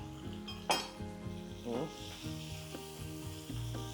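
Shrimp hitting a hot pan for a shrimp and cabbage stir-fry, a loud sizzle flaring up with each addition and clinks of a utensil stirring, fairly close with no talk.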